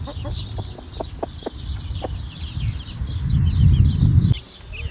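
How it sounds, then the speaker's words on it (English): A broody hen gives her food call to her chicks: a series of quick, close clucks over soft peeping and rustling, with a louder scratchy patch near the end. "this was the call that she would make to signal that she has found food"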